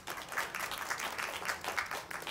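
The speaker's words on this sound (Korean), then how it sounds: "응원의 박수를 보내주시기 바랍니다" Dense applause fills the whole stretch for a children's elementary-division jiu-jitsu championship final, a steady wash of clapping from a sizable audience with no voices on top.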